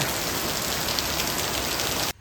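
Loud, steady heavy rain hissing and drumming on a surface without letup, then cutting off abruptly at the very end.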